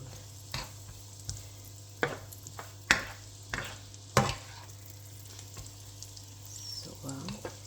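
Eggplant frying in a pan, a steady soft sizzle broken by several sharp clanks and scrapes of a utensil stirring against the metal, fairly close and quiet, with brief speech.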